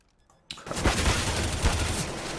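Dense, rapid gunfire bursts from a competitive CS:GO match, starting abruptly after a short quiet moment and continuing as loud overlapping shots with no talk.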